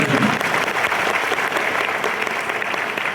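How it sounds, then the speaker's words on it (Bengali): Loud, dense applause from a large audience after an unaccompanied song, a sustained wash of many hands clapping continuously throughout with no pauses or voices standing out. "এটা জোরে হাততালি হয়ে যাচ্ছে।"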